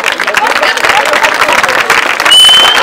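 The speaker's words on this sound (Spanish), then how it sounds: "Un aplauso." Applause and crowd noise fill a hall at a Hashomer Hatzair Chile centenary event as musicians are called onto the stage. The clapping is loud and continuous and grows slightly stronger at the end.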